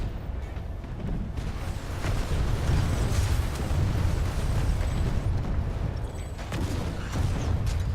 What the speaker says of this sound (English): I can see I'm getting hit a little bit by missile fire, straight missile fire